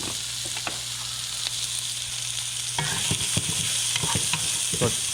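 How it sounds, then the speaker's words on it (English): Mirepoix dropped into hot oil in a pan, a steady crackling sizzle that swells louder partway through, with several quick stirring scrapes and knocks, close up and without speech. "So I'm just going to throw a little oil in here. Here comes the mirepoix."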